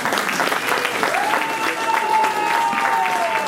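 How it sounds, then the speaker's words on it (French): An audience at a charity gala against sickle cell disease bursts into warm, sustained applause, dense clapping filling the hall for several seconds, with a brief whistle-like tone riding over it. "je vous demande encore un tonnerre d'applaudissements pour elle"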